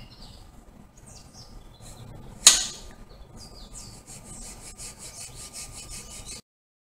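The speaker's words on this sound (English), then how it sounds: "So I'm gonna find my round rasp. Oh, here it is. And we'll give it some band grooves." A round rasp filing band grooves into a wooden slingshot, giving soft rhythmic scraping strokes that grow steadier toward the end, with one sharp knock partway through.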